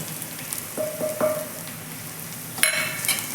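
Red chili, cumin, coriander, turmeric and dry mango powders fry in oil for a samosa filling, a soft continuous sizzle with scraping stirs and a few clinks of the spoon against the pan.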